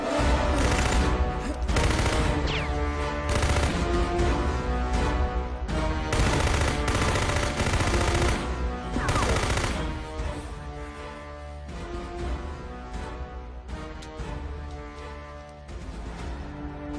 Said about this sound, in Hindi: ये गन है, नीचे बैठ।